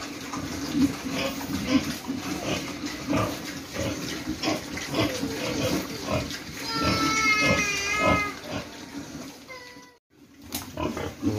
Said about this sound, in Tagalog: Maingay siya. Hanap siya ng kanyang barako.